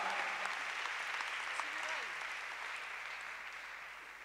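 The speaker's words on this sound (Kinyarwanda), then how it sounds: "Amashyi menshi ku Mwami Imana" Church congregation applauding during a service, a sustained wash of clapping at moderate distance that slowly fades, with a voice speaking over it.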